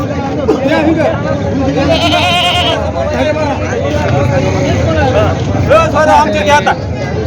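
Goats bleat in short wavering cries amid a busy crowd at the Jawala goat market, Aundha taluka, India, with steady chatter and traffic noise filling the background.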